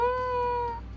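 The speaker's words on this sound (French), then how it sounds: "Un chaton!" A single short, high, tonal kitten meow rings out close and clear in a video game, a steady sustained mew lasting under a second over a faint low hum.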